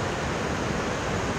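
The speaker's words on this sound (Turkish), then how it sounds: "Böyle akıyor işte Düden Şelalesi. Denize doğru." Düden Waterfall in Antalya pours steadily toward the sea, a broad continuous rushing hiss of falling water heard up close without voices.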